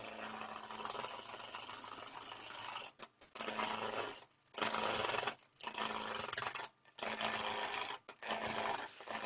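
Skew chisel riding the bevel into spinning wood on a lathe, a close, loud rasping cut in several long passes separated by brief silent gaps.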